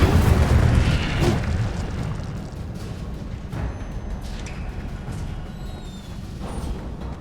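The Incendio fire spell blasts in Hogwarts Legacy, a loud roaring burst of flame and rumble at the start that fades into a sustained crackling whoosh, with no talking.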